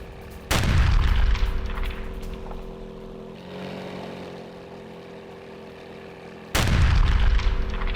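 Two large, loud booms from a Russian attack in Kharkiv, each a sudden broadband blast with a long rumbling decay, separated by several seconds of low droning background.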